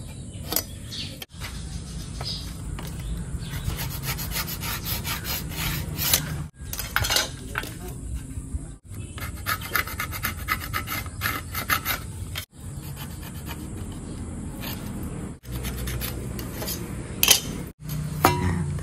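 A metal piece being cut for a Honda XRM 110 seat hinge repair, heard as long stretches of continuous close rasping and scraping, broken by several brief pauses, with no speech.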